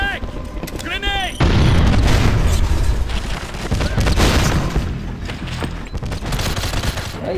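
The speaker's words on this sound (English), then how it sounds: "Frag! Grenade!" A grenade goes off in split-screen online GoldenEye, a loud booming burst that holds for several seconds with crackling gunfire-like rumble after a brief quieter stretch, while players talk over it.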